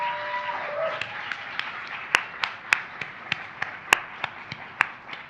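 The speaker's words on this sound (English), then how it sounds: "Can we give these fine folks a round of applause?" Audience applause at an Ohio advocacy event, a steady wash of clapping with sharp individual claps popping out, fairly loud and continuing throughout.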